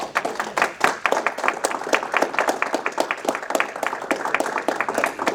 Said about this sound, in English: Let's give this table here one more hand of applause.